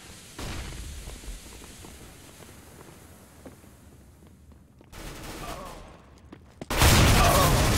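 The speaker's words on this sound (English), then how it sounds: "I'm throwing a flashbang." A flashbang grenade detonates in Counter-Strike: Global Offensive amid rapid gunfire. The match has steady bursts of shots and then loud blasts, with a sharp, intense burst at the end.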